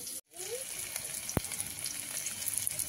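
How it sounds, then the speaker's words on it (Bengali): Chopped onion hits hot oil in a wok and sizzles steadily and evenly, with a brief sharp clink partway through. "দিয়ে দিচ্ছি পেঁয়াজ কুচি"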